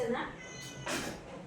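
A cat meows once or twice in a home where milk is being offered to it, fairly quiet and brief, with a voice and household noise around it.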